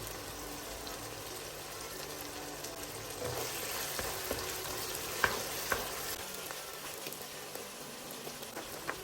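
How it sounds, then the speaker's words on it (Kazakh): Meat frying in a pan as the first step of a meat-and-macaroni pilaf, a steady crackling sizzle with sharp pops and spits close by, with no voices. "Он 15 минуттай етіміз қуырылды."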